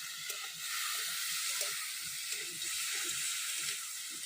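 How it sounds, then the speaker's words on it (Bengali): Crab pieces tossed with oil, salt and turmeric in a kadai give off a faint, steady sizzling hiss that runs unbroken throughout, with no voices. "কাঁকড়াটা কড়াইয়ের মধ্যেই মাখাবো তেল দিয়ে"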